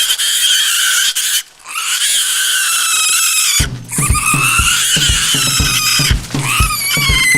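A pig squeals loudly and continuously, high-pitched and harsh, breaking into a series of short, choppy grunting squeals in the second half, close and alone on an island.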